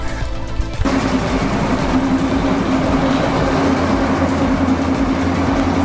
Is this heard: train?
yes